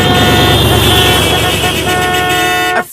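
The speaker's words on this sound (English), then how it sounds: "everyone was honking at us" Cars honking at a slow car crawling along on a road trip, with sustained horn tones blaring over steady traffic rumble before cutting off sharply at the end.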